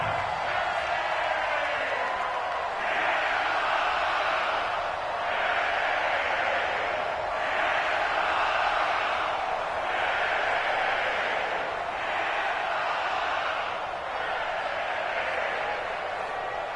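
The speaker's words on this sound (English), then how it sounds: "the crowd getting into it as we come up on a big third down" A stadium crowd at an NFL playoff game between the Vikings and the Buccaneers, ahead of a big third down: a loud, sustained roar that swells and dips in a steady, repeating rhythm throughout.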